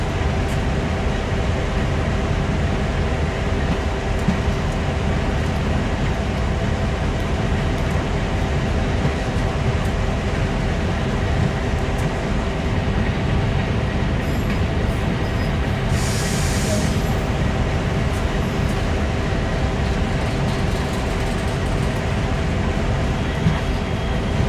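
A locomotive in the Train Sim World game runs with a loud, steady rumble and faint rail clatter throughout, with a brief hiss near the middle and no speech.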